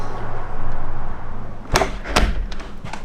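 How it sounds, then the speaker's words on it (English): A wooden cabin door swings shut with a couple of solid thumps and a rattling knock, close by, over a low steady background hum. "Close the door."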